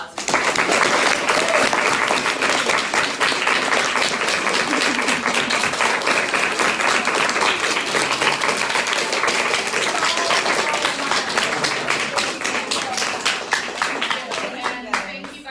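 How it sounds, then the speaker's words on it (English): An audience of kids and teens at an acting studio breaks into sustained loud applause, dense clapping that holds steady for the whole stretch and thins slightly toward the end. "let's give them a big round of applause"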